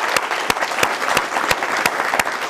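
Warm audience applause welcoming a Greek cultural and educational association onstage at a community event: steady, dense clapping from a crowd, fairly loud and close, with a few sharper individual claps standing out.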